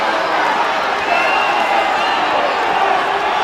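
Wrestling arena crowd at a 1984 WWF event, a loud, continuous roar of voices rumbling and murmuring throughout with no clear cheering peaks.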